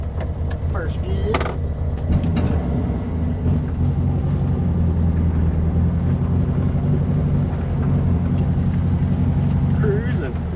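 A 1966 VW Beetle that sat unused for five years idles along in first gear, its steady low engine drone continuous and close throughout.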